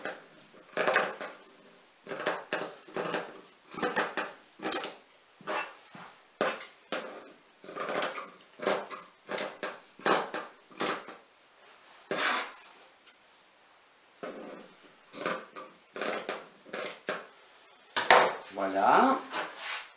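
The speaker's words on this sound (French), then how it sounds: "on peut venir couper un petit peu tout le surplus de tissu" Scissors snipping away excess fabric beside a sewn seam on a patchwork comforter toy, a long series of short crisp cuts in steady rhythm, close and clear, with no talk over them.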